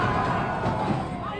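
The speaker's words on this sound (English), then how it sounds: "Wow, and this crowd is loud." Loud crowd at a boys' high school basketball game (Revere vs. Medford, senior night) roaring continuously in a gym, a dense sustained din with no pauses.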